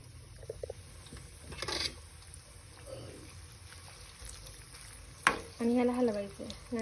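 French fry potatoes sizzling in oil in a small kadhai while being stirred, a steady low frying hiss with scraping stirs and a sharp clink near the end, close up, with brief voice sounds.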